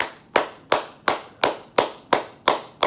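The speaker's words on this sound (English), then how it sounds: "Clap your hands as much as you can." Eight sharp hand claps in a steady, even rhythm, close and fairly loud, with no voices.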